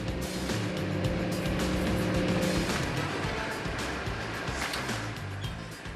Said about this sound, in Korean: 철닫을 바다에 내린 어선이 빠르게 후진하기 시작합니다